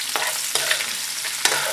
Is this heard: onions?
yes